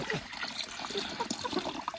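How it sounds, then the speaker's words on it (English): Water splashes and trickles steadily into a chicken waterer, a continuous close pouring sound with a faint background hiss. "I just pour the water in."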